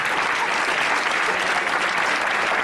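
Audience at a festival committees' gathering in Villaviciosa breaks into loud, dense, continuous applause, a steady close wash of many hands clapping together throughout.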